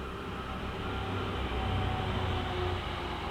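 A train rumbles steadily along a nearby railway line, a continuous low, broadband roar holding at a constant level throughout.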